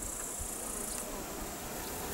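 Insects buzz and chirp in a continuous, even drone outdoors in a village on a summer morning, fairly faint with no voices.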